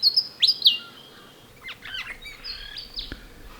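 Sharp, high chirping willie wagtail calls come in short bursts with pauses between, fairly close against a quiet background.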